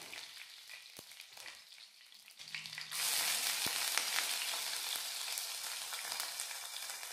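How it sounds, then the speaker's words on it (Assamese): Finely chopped onion fries in hot oil in a wok with panch phoron, a dried red chilli and a bay leaf. A quiet start gives way to a loud, steady sizzle that surges up partway and carries on to the end. "পিঁয়াজখিনি এতিয়া ৰঙচুৱা হোৱালৈকে ফ্ৰাই কৰি ল'ম"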